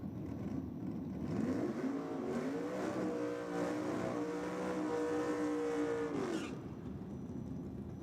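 A no-prep drag race car in the 6.0 class runs down an Australian strip, its engine a sustained distant drone climbing in pitch for several seconds before fading.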